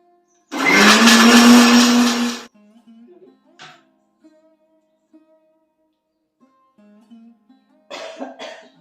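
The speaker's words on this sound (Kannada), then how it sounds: "ನೀರು ಹಾಕ್ತಲೇ ಹಾಗೆ ಮಿಕ್ಸಿ ಜಾರಿಗೆ ಹಾಕ್ಕೊಬೇಕು" A mixer grinder whirs loudly for about two seconds as it grinds brinjal chutney masala in its jar, then stops, leaving a few quiet clinks and faint handling sounds.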